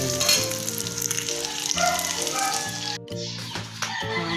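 An egg fries in a pan with a loud, close, steady sizzle, while an even hum runs underneath and a few brief clatters come near the end.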